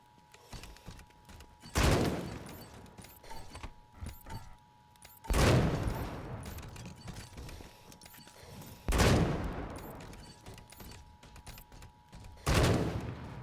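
Captured turrets firing on enemies in Wasteland 3: four separate loud bursts of gunfire spaced several seconds apart, each a sharp rattling volley with a decaying tail, over quiet ambient hum between.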